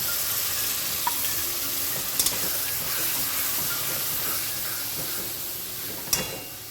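Water-soaked ground spice paste is poured onto fried onions for a mutton potato curry, producing a loud steady hiss and sizzle with a few sharp clinks of a utensil against the pan.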